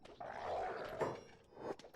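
Bone dogs in the video game Kenshi growling, with a few short rough growls and bark-like bursts close up and no talk.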